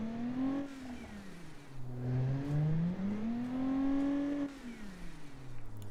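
A simulated pony car engine from the Automation car-building game, with an odd, buzzy tone, revs up and down in smooth swells, rising to a high whine before dropping back to idle and climbing again, loud and alone.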